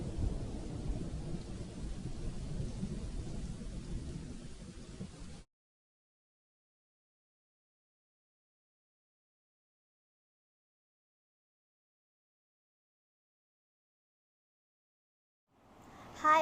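Thunderstorm with steady heavy rain and rumbling thunder for about five seconds, loud and close, then abrupt silence before another burst of noise at the end.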